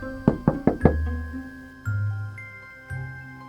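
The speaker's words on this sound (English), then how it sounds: "Sounds like someone's at the door again." Four quick, sharp knocks sound on a door, loud and close, followed by a pair of duller thumps against a steady electronic hum.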